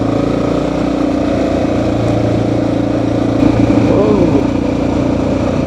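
A motorcycle ridden through soft mud on a trail near a river lock and dam, its engine droning loud and steady and rising slightly partway through, with a rider talking over it.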